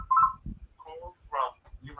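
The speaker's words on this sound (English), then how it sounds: "I was trying to stop that ringing, so yeah, let me get rid of that phone." A telephone rings in short, repeated electronic tone bursts, fairly close, with low voices murmuring beneath and between the rings.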